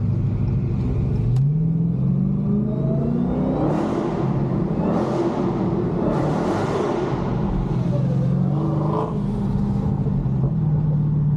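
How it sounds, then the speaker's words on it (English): A Dodge Hellcat-swapped car accelerates through a tunnel, its engine rising in pitch through a long pull with a loud echoing roar and rumble, heard from inside the car with no talking. "Quick little tunnel pull."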